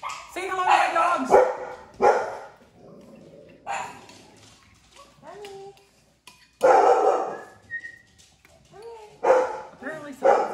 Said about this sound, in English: Say hello to my dogs.